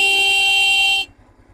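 A stock car horn gives one loud, steady blast lasting about a second and then cuts off sharply, leaving faint low background noise.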